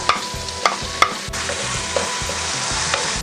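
Garlic and ginger fry and sizzle steadily in a hot pan, with a few sharp clinks of a utensil stirring the pieces near the start.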